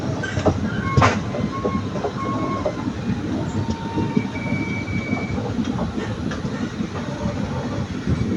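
A train running toward Ernakulam Junction rumbles steadily from inside a carriage, with rhythmic wheel clatter, occasional metallic squeals and clunks, loud and continuous.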